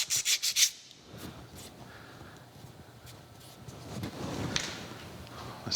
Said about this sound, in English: I'm going to take some emery cloth. I've already been kind of massaging this a little bit, just trying to get those burrs off of it